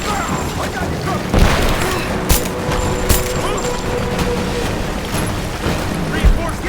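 Gunfire and booms from a firefight in the video game Rise of the Tomb Raider, loud scattered shots and impacts over a dense battle backdrop, with voices shouting over it.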